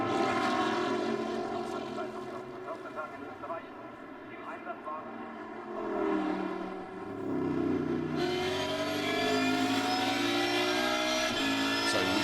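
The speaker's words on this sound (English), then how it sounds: "Cars on their formation lap." Racing cars on a formation lap at Spa-Francorchamps roar continuously, engines droning and rising as they weave to warm their tyres, loud and steady with a pitch shift partway through, with no talking.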